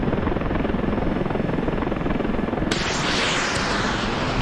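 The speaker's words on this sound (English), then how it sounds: "the attack helicopter." Attack helicopter from the video game Ravenfield, a loud continuous rotor and engine roar that holds steady throughout, with a sharp brightening of the hiss partway through.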